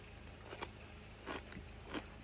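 Quiet, close crunchy bites and chewing of fermented sauerkraut, three distinct crisp bursts spaced apart, with no talking.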